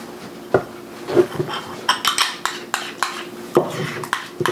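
Horseradish sauce dressing with fresh lemon, mayonnaise-based, being stirred in a bowl: a series of close, irregular clinks and knocks of a utensil against the dish, with soft scraping in between.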